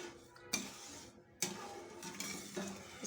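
Sugar syrup for crispy jalebi being stirred in a pan, several distinct scraping strokes in quick bursts with soft bubbling between them, close and fairly quiet.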